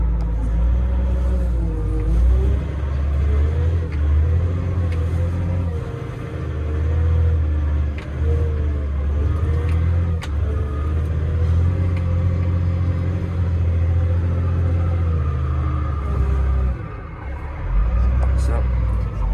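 A farm vehicle with a forward-reverse shuttle pulls away, its engine giving a close, continuous low rumble that swells and eases through the drive, with a voice heard at times over it.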